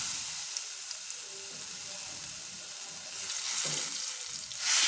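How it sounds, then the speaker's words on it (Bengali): Green banana peel paste sizzles and fries steadily in a hot pan after cumin and chillies, with a broad continuous hiss that swells louder near the end as it is stirred. "কাঁচকলার পেস্টটা আমি এর মধ্যে দিয়ে দিলাম।"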